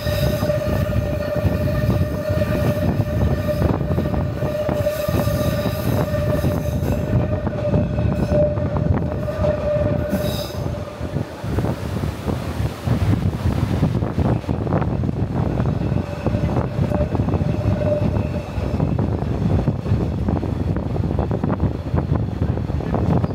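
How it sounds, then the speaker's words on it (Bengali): A train running between Zweilütschinen station and Lauterbrunnen in the Swiss valley, with a steady rumble of wheels and carriage across the whole stretch and a sustained tonal hum or whine on top, loud and continuous, no talk. "আমরা এই ট্রেনটি ধরেছি জুইলিচুনেন স্টেশন থেকে"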